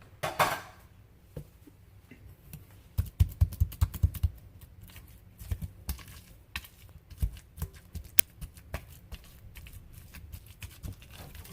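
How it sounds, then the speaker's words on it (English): Canned tuna mashed and broken apart with a whisk in a bowl for a creamy macaroni salad, giving soft irregular taps and scrapes, with a louder cluster of strikes partway through, close and fairly quiet. "I'm just sort of going to mash it and break it apart with the whisk"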